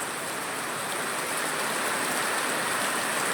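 Heavy rain pouring steadily in Amaravila near Neyyattinkara, Thiruvananthapuram, during a thunderstorm, a dense, even hiss of downpour that stays loud and constant throughout, with no voices.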